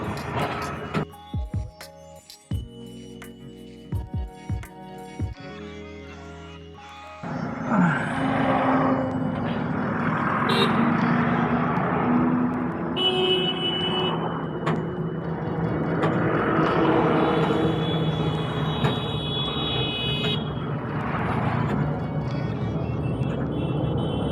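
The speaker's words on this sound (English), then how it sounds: "So driving the Datsun Redigo, and this is the 1000cc model" A 2021 Datsun Redi Go with a 1000cc engine, heard from inside while driving: after a few seconds of sparse knocks, a steady engine drone and road rumble hold for the rest, with someone talking over it.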